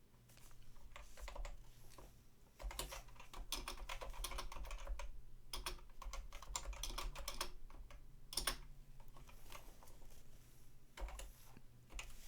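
Computer keyboard being typed on steadily for several seconds, a dense run of quiet key clicks with short pauses, close up, over a low constant hum, with no speech.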